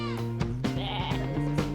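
Goats bleat repeatedly at close range inside a clean goat pen in Karanganyar, several overlapping wavering calls following one another over a steady background with no talking.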